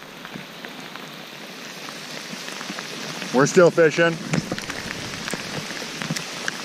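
Steady rain patters down on a Michigan fishing outing, a dense even hiss throughout, with someone briefly speaking partway through.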